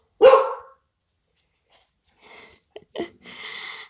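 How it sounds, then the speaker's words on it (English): A dog named Lily barks once, sharp and loud indoors at the door, followed by a few fainter huffs and rustling sounds nearby. "She's such a good guard dog, I tell ya. That bark."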